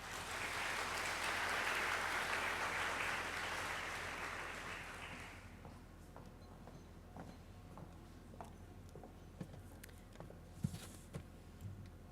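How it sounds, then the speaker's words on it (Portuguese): Sustained audience applause at an academic event, loud and broad for about five seconds, then fading to scattered claps and a quiet room with occasional small knocks. "Vou pedir mais uma salva de palmas, né?"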